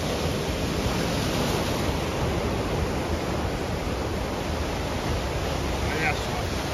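Rough sea waves break continuously at Santos beach, a dense, steady roar of surf, with wind buffeting the microphone and no clear talk.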